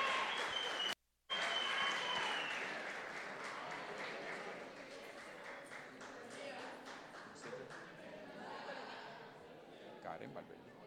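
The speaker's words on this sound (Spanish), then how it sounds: "Un fuerte aplauso para Karen." A crowd applauds at an awards ceremony for a running race, with loud, dense clapping that thins and fades slowly as a few scattered claps and voices carry on toward the end.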